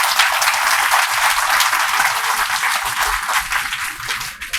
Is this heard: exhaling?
no